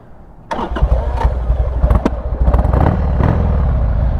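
A Harley-Davidson Sportster 883 motorcycle engine cranks and fires up after a brief quiet moment, then settles into a loud, close, lumpy idle with uneven throttle blips.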